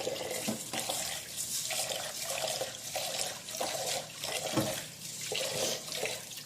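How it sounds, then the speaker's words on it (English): Rice is swished and rinsed in water by hand, making a continuous, rhythmic sloshing with soft splashes that rise and fall, close by and with no talking. "we're going to clean the rice like we did before"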